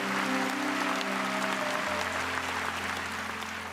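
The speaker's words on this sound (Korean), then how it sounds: "우리 하나님께 감사의 박수 올려 돌리십시오." A church congregation claps in thanks at an early-morning prayer service, a full, even roar of applause held from start to finish with a low sustained organ-like tone underneath.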